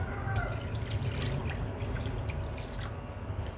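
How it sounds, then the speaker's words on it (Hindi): Water is poured over chopped goat or lamb liver pieces in a bowl to soak, giving a close, steady trickling and splashing for a few seconds. "अब मैं इसकी स्मेल दूर करने के लिए इसमें डालूँगी थोड़ा सा पानी"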